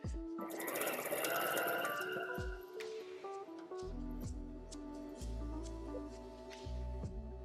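A sewing machine stitches a ruffle onto a denim jacket, giving bursts of fast mechanical whirring that start and stop several times, close and fairly quiet.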